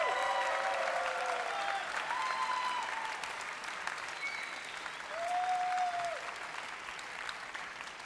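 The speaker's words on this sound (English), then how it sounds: "Let's have one more huge round of applause for all of our cosplayers here at MagicCon." A large convention crowd at a MagicCon cosplay contest applauds steadily, a dense sustained wash of clapping with a few cheers and whistles over it, all through.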